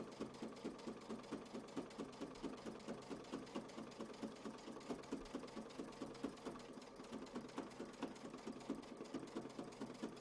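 A sewing machine stitches a quilt block in a steady, rapid mechanical rhythm, running continuously at close range with no talking.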